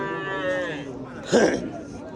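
A cow lets out a low moo at a busy livestock market in Kattakurgan, Uzbekistan, the call rising over the steady chatter of buyers and sellers nearby.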